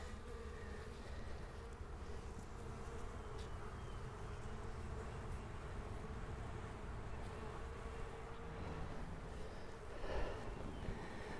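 Honey bees from a swarm trap set up at a church hum and buzz steadily at close range, a dense continuous drone with occasional louder passes.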